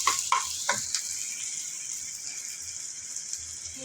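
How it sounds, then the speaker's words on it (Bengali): Onions frying in a pan, a close, bright sizzle with a few clacking stirs at the start that settles into a steady hiss. "পেঁয়াজটা ভেজে নিচ্ছি।"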